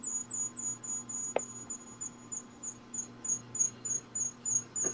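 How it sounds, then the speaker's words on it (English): Crickets chirping in a steady, evenly spaced rhythm of short, high pulses, fairly faint, over a constant low electrical hum, with one brief click partway through. "Yeah, because I'm hearing crickets."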